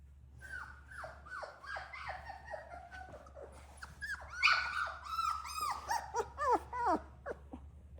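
Several young Doodle puppies whimper and yip in a quick series of high, wavering cries, close by and fairly soft, with an occasional faint growl and breathing underneath.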